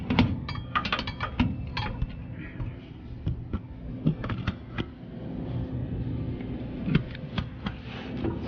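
Ratchet clicks and metallic clanks ring out while a bump stop bolt is worked loose on a Chevy OBS truck, the irregular mechanical ticks sitting over a steady low background hum.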